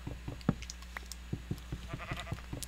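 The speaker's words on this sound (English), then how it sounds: "Shut up, sheep!" A sheep in Minecraft bleats in a quick run of short, wavering calls, faint and close, mixed with light clicking in-game sounds and no speech.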